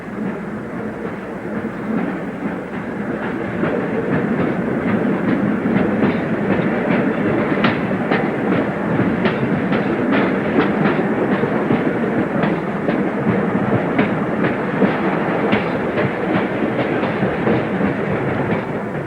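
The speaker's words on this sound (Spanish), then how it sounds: "al viejo camino inca se ha unido otro de hierro por el que circula un tren en accidentada marcha, atravesando túneles y ciñéndose a infinitas curvas" Train running on a railway through an Andean valley beside the Inca trail, its wagons rattling with a steady clickety-clack of wheels over rail joints, loud and close throughout with no talk.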